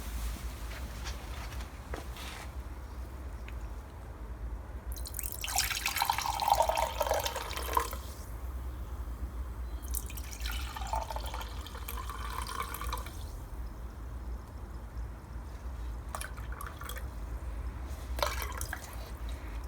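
Coca-Cola poured out of a seized A-series engine from a classic Mini Clubman, heard as two short bursts of splashing, trickling liquid over a quiet workshop background, with faint drips in between.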